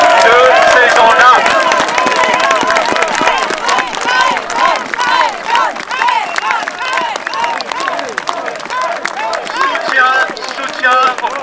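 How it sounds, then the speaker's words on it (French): Crowd at an outdoor protest rally in Paris applauding and cheering steadily, a dense wash of clapping and voices with speech babble running throughout, sustained and fairly loud. "je voudrais que nous soutenions par nos applaudissements nourris maintenant le professeur Christian Perronne"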